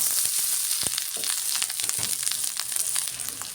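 Boiled rice and lentils fried in hot oil with chillies, giving a steady close-up sizzle and crackle with small spits and stirring scrapes, and no talking.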